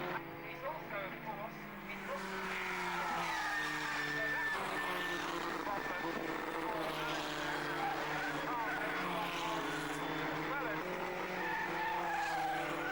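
Racing cars on the Mallory Park circuit, engines rising and falling in pitch as they pass, with tyre squeal and a commentator talking over the steady roar.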